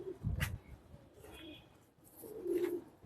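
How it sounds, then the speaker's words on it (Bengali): Pigeons coo softly at close range, a couple of faint low calls separated by a quiet gap. "কত সুন্দর সুন্দর কবুতর মাসাল্লাহ"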